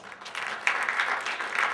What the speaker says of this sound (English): give yourself a round of applause to coming out and supporting this